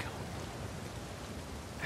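Steady rain falling in the video game Uncharted 4, a soft, even wash of droplet noise at low level, uninterrupted for the short moment.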